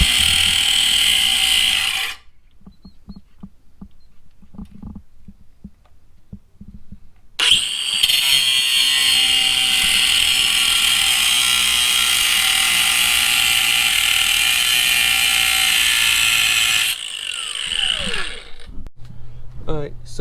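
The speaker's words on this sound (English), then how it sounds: "I'm gonna get a cutoff wheel and just take that off with the grinder" An angle grinder with a cutoff wheel slicing through a part on a Pontiac Solstice GXP during an intercooler install, giving a loud, harsh sustained whine in two long bursts separated by a quieter stretch of faint shop noise.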